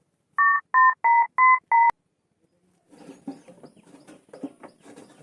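Five quick touch-tone beeps of a number being dialed, evenly spaced, followed by a pause and then soft muffled talking.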